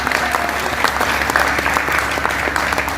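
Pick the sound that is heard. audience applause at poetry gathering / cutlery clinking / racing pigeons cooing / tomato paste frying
audience applause at poetry gathering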